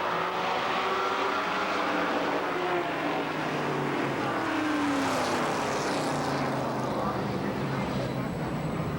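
Legends race cars roar around Columbus Motor Speedway in a dense, continuous engine drone, with a pack sweeping past while an announcer calls the race over the noise.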